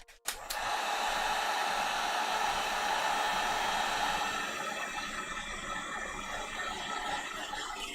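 A heat gun blowing on a foam cosplay breastplate coated in plasti dip, switching on with a click then a steady loud airy roar that continues to the end, no talk.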